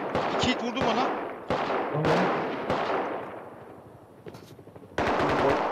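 Automatic gunfire rattles in rapid bursts during a firefight in the survival game Rust, with loud close volleys, brief pauses and a final burst, while players talk over the shooting.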